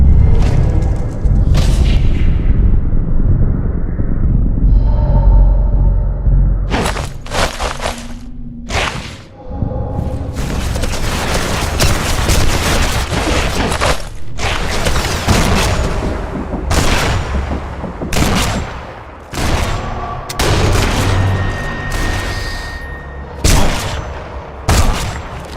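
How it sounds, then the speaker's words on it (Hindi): Heavy gunfire and booming explosions from Sniper Elite 4, loud and dense, with rapid bursts and hard impacts crowding one another throughout. "पीछे भी है, ताबड़तोड़ फायरिंग किए जा रहे हैं"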